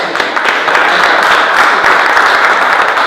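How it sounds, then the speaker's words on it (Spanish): Loud, sustained audience applause at a talk on the history of the Argentine labor movement, with dense, even clapping filling the whole moment and no voices over it. "Merece un aplauso."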